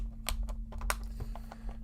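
Craft tools such as scissors and a ruler being stuffed into a tool organizer, giving a quick series of close, sharp clicks and clacks over a steady low hum.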